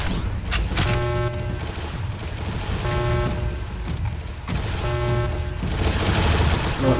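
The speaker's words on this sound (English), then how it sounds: "Right now, I'll just spam it with pea rifle shots and see how well that goes." Pea rifle fire in the game Ancient Warfare 3 crackles out in rapid bursts, with roughly four loud volleys spaced about two seconds apart.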